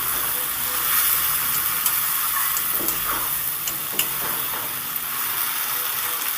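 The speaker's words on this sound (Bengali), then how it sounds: "এবার দিয়ে দিচ্ছি ভাজা কুদ্রি আর ভেন্ডিটা একসাথে আমি মশলার সাথে মিশিয়ে নেড়ে চেড়ে দু থেকে তিন মিনিট ভেজে নেব" Fried ivy gourd and okra tossed with spices in a pan, a steady loud sizzle and hiss with a few soft stirring scrapes, close up and without speech.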